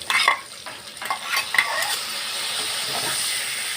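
Coriander paste is stirred into flat beans frying in a pan, with a few scraping stirs and clinks at first, then a steady sizzle that carries on alone.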